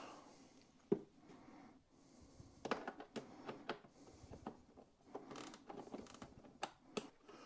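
Bolts being removed with a 10 mm spanner from a Kuryakyn tour-pak relocator on a Harley-Davidson, with faint metallic clicks, ratcheting creaks and scattered taps, close but quiet.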